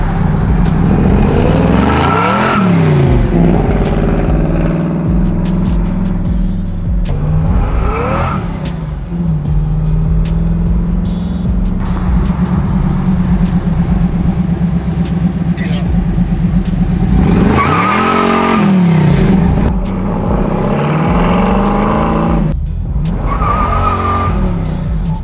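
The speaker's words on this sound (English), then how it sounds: "The car can spin tires without a problem." A big-block supercharged 1971 Chevy Camaro restomod spins its tires with loud squealing screeches and roaring revs in repeated bursts, close and powerful, while people talk underneath.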